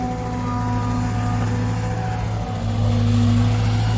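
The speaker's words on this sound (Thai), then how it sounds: "กับรถขุดนะครับแคท 320 G4 ทีมขุดที่2นะครับ เป็นรถขุดแคทคันแรกของผมนั่นเองนะครับ" A Cat 320 G4 excavator engine with over 8,000 hours idles and runs steadily at close range, a loud continuous drone that rises slightly in pitch and strength near the end, at a pond dig site.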